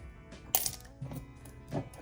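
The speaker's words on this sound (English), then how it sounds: "Whoops, runaway penny." A penny drops onto a hard surface with a bright metallic clink, then rolls and rattles away in a few quick, fading taps, close and quiet.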